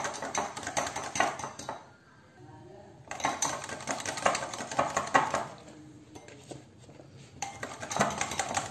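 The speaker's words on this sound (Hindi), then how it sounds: "अच्छी तरह से इसे बीट कर लें।" Mango pulp from peeled, blended mango being beaten into a cheese tart filling in a bowl, with repeated clattering utensil-on-bowl strokes in bursts separated by brief pauses, close and moderately loud, no talking.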